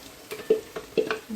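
A spoon stirs sauce in a pan over medium heat while cooking Rioja style cod, giving a few short scraping swishes with a gentle sizzle underneath.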